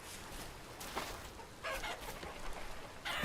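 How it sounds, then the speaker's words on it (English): Chickens clucking in the survival video game Rust, several short, scattered clucks close by over a hissing background, with no talk. "Oh, we got chickens."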